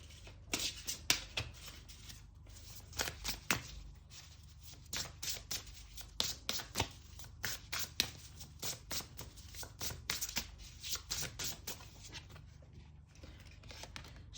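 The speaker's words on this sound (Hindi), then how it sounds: "ओके, एक और कार्ड निकालते हैं यहाँ पे।" Tarot cards are shuffled and drawn in a Hindi love reading, giving quiet, rapid papery riffles and flicks in irregular bursts, close and soft.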